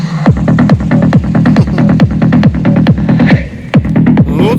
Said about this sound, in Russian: Мидбас слышен на довольно большом расстоянии и очень отчетливо.